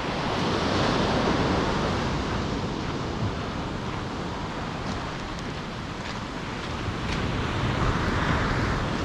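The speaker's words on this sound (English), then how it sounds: "A flat sea, there's a bit of surf running." Surf runs onto a winter beach during calm, flat-sea conditions, forming a continuous broadband wash of breaking waves mixed with wind rumble, steady and fairly loud from start to finish.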